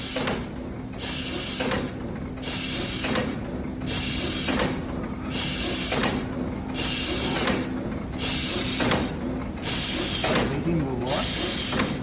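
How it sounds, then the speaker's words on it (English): Kama die-cut machine running with its feeder going, a steady mechanical hiss overlaid by regular rhythmic clacking cycles about once per second, moderately loud and continuous. "So machine's running, feeder's not. We link it, and now we'll start running the feeder."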